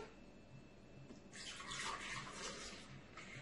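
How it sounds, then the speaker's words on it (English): Liquid poured into a blender as the base for a berry banana smoothie with frozen fruit: a close, steady splashing pour begins after a brief quiet moment and continues to the end, with no talk. "Let's go ahead and add our liquid first."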